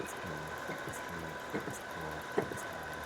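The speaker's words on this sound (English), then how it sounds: "Oh yeah, actually you can even hear the engine RPM drop." A Toyota Corolla engine idles in a steady low rumble while its RPM sags during brake pumping, with a couple of brief clicks and bumps over the continuous drone.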